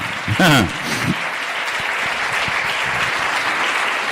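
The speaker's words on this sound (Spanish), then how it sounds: "Dale un fuerte aplauso al Señor en esta tarde." Church congregation applauding during a Spanish-language sermon: a broadband wash of clapping that runs steadily through the clip. A preacher's voice briefly sounds over it at the start.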